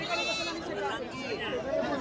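Sheep and goats bleat repeatedly amid a busy crowd of chattering voices at the Monday livestock market in Vadgaon, the animal calls rising and falling over the talk.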